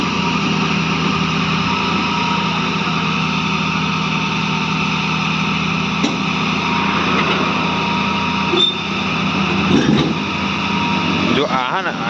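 Steady loud drone of a Tata excavator's engine running continuously while the machine is loaded onto a truck, with some brief clanks and shifts in the hum and people talking over it.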